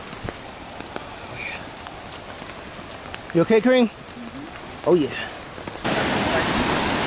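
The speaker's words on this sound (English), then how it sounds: "it's raining like crazy." Heavy rain pours steadily in a rainforest, a dense hiss that swells louder near the end, while people exchange a few short words partway through.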